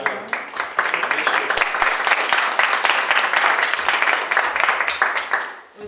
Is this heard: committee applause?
yes